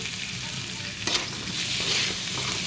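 Onion, capsicum and yellow bell peppers fry on high flame after ginger and garlic for crispy chilli baby corn, a loud continuous sizzle broken by scraping stirs.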